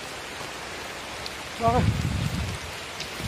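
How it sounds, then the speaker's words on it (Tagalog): Heavy rain pours in a steady, loud hiss throughout, with a brief spoken word rising over it partway through. "Lakas ng ulan."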